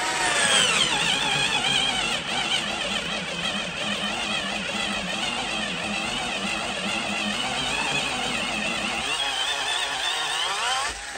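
A powerful electric drill runs under heavy load in one continuous, close, buzzing whine with a steady motor drone that holds for the whole stretch and drops slightly near the end.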